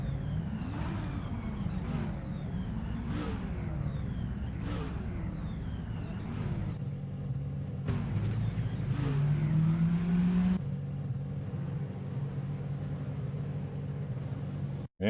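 A pack of race cars at Monza in Assetto Corsa revs and accelerates off the start line, engines climbing through repeated gear-change sweeps as a loud, continuous roar.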